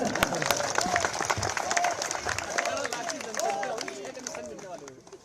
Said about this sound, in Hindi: जरा बजाइए ताली मोदी जी के लिए।